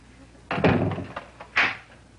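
A door shuts with a solid thump and rattles, then a short sharp click and a second clunk follow as it is locked, close by in a quiet room.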